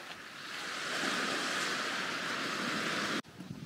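Steady rushing Pacific surf washes onto a sandy beach in a broad, even hiss, then cuts off abruptly near the end.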